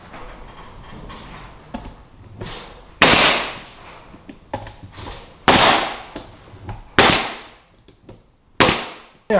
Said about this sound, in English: today we're just going to nail the back directly